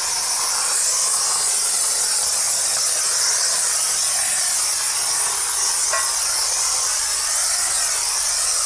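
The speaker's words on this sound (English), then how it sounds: "Let's get the steam." Steam cleaner jetting steam over a car engine bay, a continuous loud hiss that holds steady throughout, close up with no voices.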